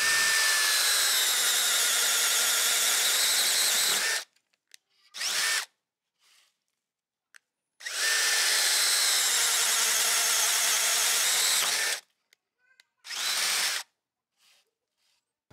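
Power drill fitted with a Bosch solid four-slot auger bit bores into wood, with two long loud whirring runs of about four seconds each and short bursts between them, separated by silence.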